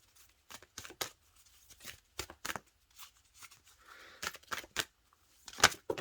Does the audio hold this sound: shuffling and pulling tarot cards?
yes